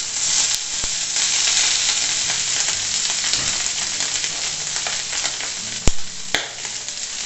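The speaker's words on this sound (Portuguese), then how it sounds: "agora eu vou colocar aqui no nosso tacho para ela dar uma fritada" Rice softened in a pressure cooker and then drained sizzles steadily as it fries in a wide pan on a plow-disc stove, a dense bright hiss with a few sharp clinks of a utensil near the end.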